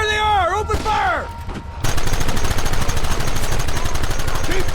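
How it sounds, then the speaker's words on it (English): Sustained, dense gunfire in a Red Dead Redemption shootout, rapid overlapping shots that begin abruptly after an opening of voices and musical tones, loud and continuous to the end. "Open fire!"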